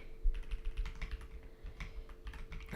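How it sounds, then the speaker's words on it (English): Rapid, dense clicking of a computer keyboard being typed on quickly, a busy run of keystrokes over a low hum from the room. "That's some pretty quick typing."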